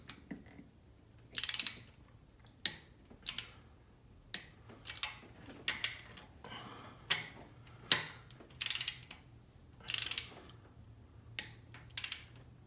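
A ratchet or torque wrench tightening bolts on a high-pressure fuel pump during engine work, a series of quiet ratcheting clicks in short bursts with sharper loud snaps at intervals, nearby and without talk.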